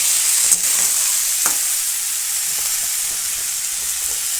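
Potatoes sauté in hot oil with black cumin and a little onion for a morola fish chorchori, a bright constant sizzling hiss with a couple of brief stirring knocks.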